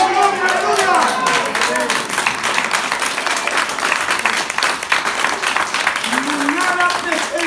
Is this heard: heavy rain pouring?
no